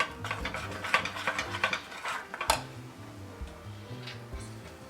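A soup spoon stirs peanut butter and hoisin sauce in a bowl, making quick, light clicking taps against the side. The taps are close and fairly quiet, then thin out toward the end.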